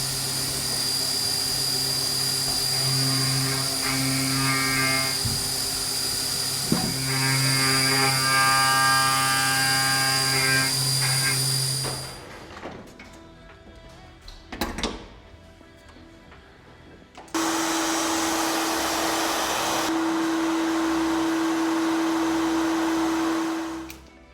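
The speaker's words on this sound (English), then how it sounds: "So we're about ready to start up this CNC mill. It's going to mill a base plate for the fixture" A CNC mill machining a base plate for a fixture, with a steady loud whine and tonal hum from the spindle, a quieter stretch with clunks midway, then a harsher, brighter cutting roar, close and continuous.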